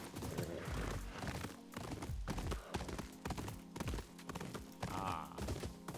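Hooves clip-clop on the ground in Ghost of Yotei, a fast uneven run of thudding beats from a horse close by, loud and unbroken from start to finish.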